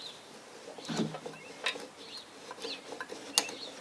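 Small mechanical clicks, scrapes and a sharp snap come from a carburetor being pulled off a Briggs engine, a few irregular close taps spread over a few seconds, fairly quiet.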